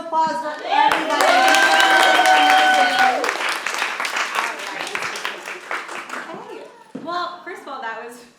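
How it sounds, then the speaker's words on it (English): Audience applause at a classroom student-agency production event, a sustained burst of clapping that swells early, stays dense for a few seconds, then thins out, with voices and sung or spoken tones over it. "Let's give one more round of applause for everybody."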